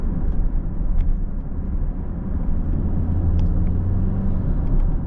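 A 2022 BMW X3 x30i on the road, with a steady, loud low engine and road rumble running continuously throughout, no voices.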